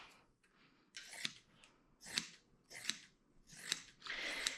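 Scissors cut through fabric for a no-sew dog bandana, making about five crisp, close snips at a quick, fairly regular pace with short pauses between cuts.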